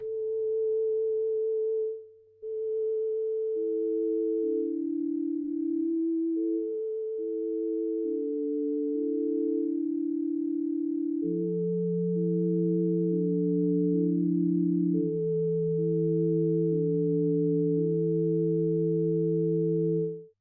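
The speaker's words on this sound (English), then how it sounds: "The flute, like already said, turns into regular sine wave." A sampled flute tone from a Casio SK-1 sampling keyboard plays a simple stepped melody, turning into a pure sine wave, later joined by a lower steady tone; smooth and electronic, with no voices.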